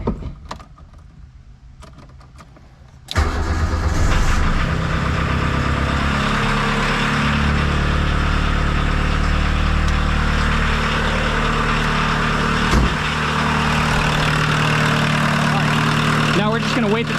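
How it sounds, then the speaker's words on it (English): MK1 car engine cranks to life after a quiet start, then settles into a steady, close idle during an oil flush with Liqui Moly 2037, running evenly throughout. "we're supposed to let it idle for 10 minutes"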